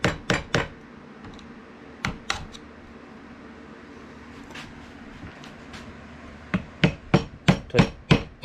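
Sharp chisel hammered to chip epoxy off a Cold Steel Laredo Bowie knife tang: sharp metallic strikes, three quick at the start, a few scattered, then a rapid run of about six blows near the end over a quiet workshop hum.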